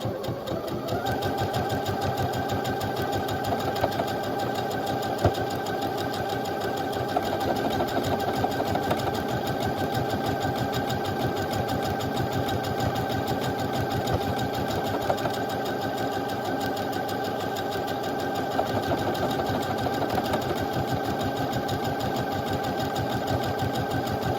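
A sewing machine runs continuously for a long stretch while stitching buttonholes on a linen shirt, giving a loud, steady, rapid mechanical whir that holds at an even pace throughout.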